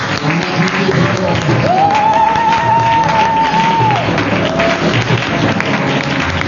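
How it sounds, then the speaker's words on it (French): A church congregation at a Sunday morning service acclaiming and applauding, a dense continuous roar of clapping and cheering with voices mixed in and a sustained shout rising above the crowd midway. "Est-ce que tu peux apprécier le Seigneur par tes acclamations?"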